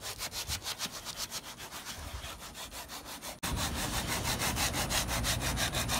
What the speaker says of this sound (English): I'm just gonna scuff it real quick